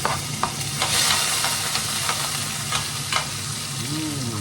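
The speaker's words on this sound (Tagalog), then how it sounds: "sibuyas, kamatis, saka bawang. Igisa na natin para sa ating liga." Onion, tomato and garlic sauté in a pan with a loud, steady sizzle close up, broken by occasional scrapes and taps of a utensil stirring, no voices.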